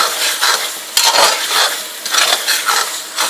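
Turmeric and ground spices are stirred in a sizzling chicken curry pan. The spoon scrapes in quick, repeated strokes close up over a constant hiss of frying, with no talking.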